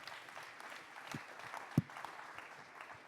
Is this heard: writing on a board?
no